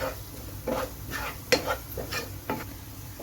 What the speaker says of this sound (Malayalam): നമുക്ക് നന്നായിട്ടൊന്ന് ഇളക്കി കൊടുക്കാം